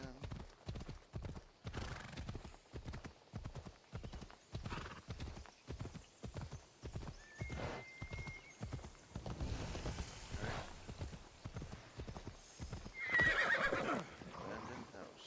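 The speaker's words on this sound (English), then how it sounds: "I'm riding my horse on the road again." Horse hooves clip-clop in steady, even beats in Assassin's Creed Odyssey as the horse is ridden along a road. A brief neigh and faint game sounds come in partway through.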